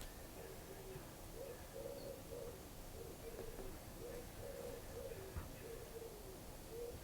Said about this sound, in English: It's just birds in the chimney, isn't it?